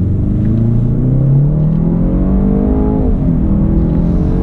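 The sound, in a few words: SUV engine accelerating in race mode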